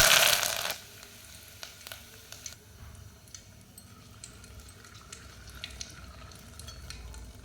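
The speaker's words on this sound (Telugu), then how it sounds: "కరివేపాకు ఎండుమిరపకాయలు వేడైనాయి కదండి" Dried red chilies and curry leaves frying in hot oil, a loud burst of spitting at the start that settles into a soft, steady sizzle with light ticks from stirring.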